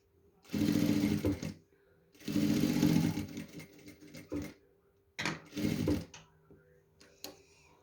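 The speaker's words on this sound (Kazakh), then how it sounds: "Ақты жаптық, енді ақты тігеміз. Ақтан екі лента тігеміз." A sewing machine stitches two white ribbon strips onto fabric in three bursts of close, steady whirring, separated by brief pauses and faint handling clicks.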